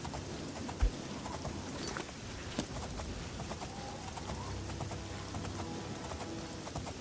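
Horse hooves clip-clop steadily in the Oblivion video game as a character rides, a continuous rhythmic patter of hoofbeats over a busy ambient game backdrop.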